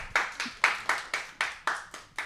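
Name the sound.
audience applause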